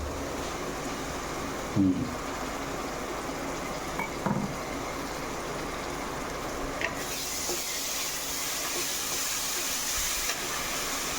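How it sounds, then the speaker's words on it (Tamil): Ginger garlic paste sizzles in hot oil in a pan while chicken gravy is being cooked, giving a steady close hiss with a few soft utensil clinks and scrapes, and no talking. "இஞ்சி பூண்டு பேஸ்ட் போட்டு வணக்கிறோம்."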